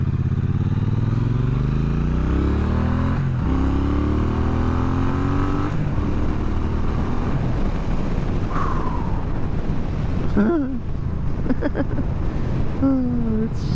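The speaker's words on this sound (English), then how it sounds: "I did go as far as I could twist that throttle" A 2023 Triumph Bonneville T120 motorcycle accelerates hard at full throttle on an open road, its engine note climbing through several gears with loud, steady wind and road roar throughout, close to the rider.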